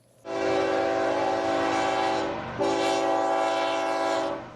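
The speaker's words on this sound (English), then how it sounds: "This is the main line. Trains are constantly passing by as Herron recalls his days" A train on the busy BNSF railroad main line sounds two long, loud horn blasts with a brief break between them, heard at some distance.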